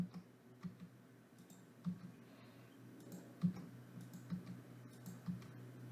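Soft computer mouse clicks and keyboard taps sound close by during spreadsheet editing, scattered single clicks every second or so over a low steady room hum, with no speech.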